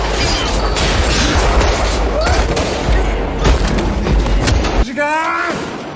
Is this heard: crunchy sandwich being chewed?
no